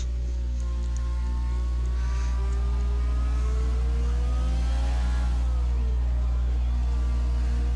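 Racing-game car engine on a warm-up lap around the Netherlands circuit, a steady droning whine with rising and falling revs as the car accelerates and shifts, close and continuous throughout.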